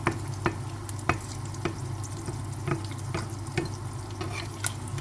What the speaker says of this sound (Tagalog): Aray ko, namisik ang mantika.